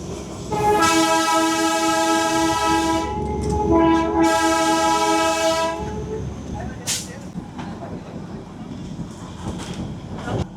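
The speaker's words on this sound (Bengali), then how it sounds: "ট্রেন আবার এখান থেকে রিভার্সে যাবে" The Himalayan toy train on the Gayabari jungle ride sounds its horn loudly and close by in two long blasts. The carriages rumble and clank along the track underneath, and a shorter squeal follows before the running noise settles.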